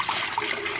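Tea poured into a gallon Anchor Hocking glass jar, a steady, fairly loud rush of liquid with a bright splashing hiss that continues unbroken for under a second.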